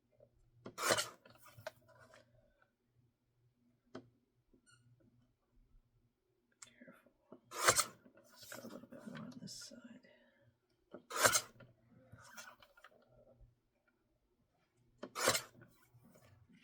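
A printed photo trimmed for scrapbooking makes short, scratchy cutting strokes in four separate bursts spaced a few seconds apart, quiet and close, with soft rustling and faint handling sounds between.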